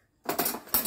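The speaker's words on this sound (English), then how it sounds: "Spoon and forks." Spoons and forks clink and jangle as they come out of a dishwasher during unloading, a couple of close, bright metallic rattles in quick succession.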